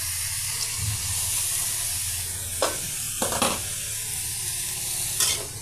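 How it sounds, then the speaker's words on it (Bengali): Shredded cabbage, carrot and cauliflower frying uncovered in a pan give a steady close sizzling hiss, broken by a few short scraping stirs of the spatula. "আমি একটু নেড়ে চেড়ে নিচ্ছি, যাতে করে সব সাইড একরকম ভাবে হয়ে যায়"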